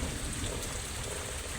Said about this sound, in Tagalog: Gawa po ng lakas po ng ulan.